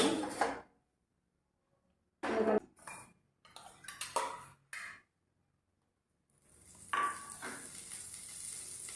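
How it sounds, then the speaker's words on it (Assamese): Grated coconut being stir-fried in a hot wok, with metal spatula scrapes and clatter in short bursts separated by quiet gaps, then a steadier low sizzle toward the end. "এতিয়া আমি গুড়ি নাৰিকল লৈছোঁ, ভাজি দিছোঁ"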